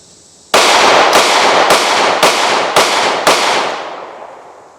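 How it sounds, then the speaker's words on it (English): Six loud, sharp pistol shots from an IWI Masada Slim 9mm micro pistol, fired in an even rhythm about half a second apart, each ringing out briefly before the next. "And yet it shoots like a full-size gun."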